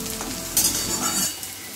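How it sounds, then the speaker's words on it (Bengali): Onion and green chilli fry in a pan for a sponge gourd dish, with a bright sizzle and quick stirring clatter that soon drops to a quieter hiss. "এবার আমি একটু কাঁচা লঙ্কা দিয়ে দিলাম।"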